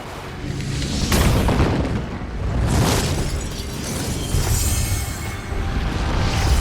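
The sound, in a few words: film explosion from Quantum of Solace set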